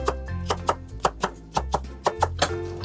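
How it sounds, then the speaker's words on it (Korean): Kitchen knife slicing onion on a cutting board for water kimchi, about a dozen crisp chops in an uneven rhythm, close and clear with no talking. "양파는 썰어서 넣을 거예요"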